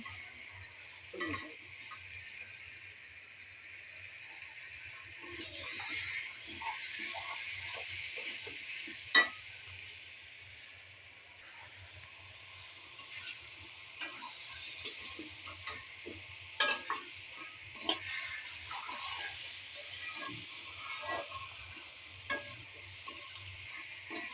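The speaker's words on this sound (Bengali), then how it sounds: "এভাবে সুন্দর করে একটু কষিয়ে নেবে তো তরকারিটা অনেক মজা হবে" Tilapia and taro curry being stir-fried with spices, a soft steady sizzle broken by scattered clicks and scrapes of stirring, fairly quiet and close.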